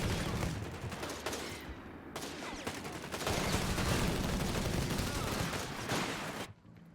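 Machine guns fire in a strategy video game, dense, rapid bursts of crackling fire mixed with overlapping shots, loud and continuous, with a voice talking over it briefly.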